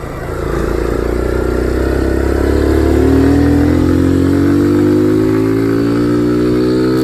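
A Kawasaki Z125 motorcycle engine climbs steadily in pitch as it accelerates through the gears, loud and close from the riding position with wind rumble underneath and no talking.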